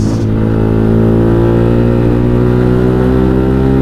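Motorcycle fitted with a JB159 trioval long exhaust revs loudly up close, a steady deep engine drone climbing in pitch over a few seconds with strong rumbling harmonics.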